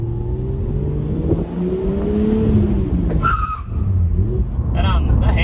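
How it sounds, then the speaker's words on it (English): A Nissan Skyline R33 skids with its handbrake locked, a loud close tire screech over the engine's drone, followed by a brief squeal burst and engine revving. A voice talks briefly over the noise. "That handbrake actually locks up really good."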